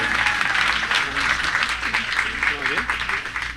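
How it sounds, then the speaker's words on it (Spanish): Applause from a church congregation at a pastor's event, a steady dense wash of clapping lasting throughout, with a voice speaking over it. "un aplauso para ella"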